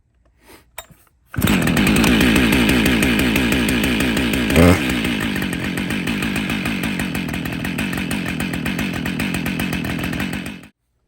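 A Husqvarna chainsaw engine starts and runs at a steady fast idle, loud and close, with a rapid buzzing throb before cutting off.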